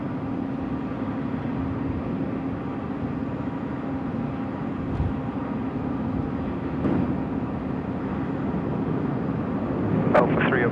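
A Qantas Airbus A380 at Sydney Airport at night, a steady distant low jet roar spread across the whole stretch, faint and continuous, with a brief sharper noise near the end.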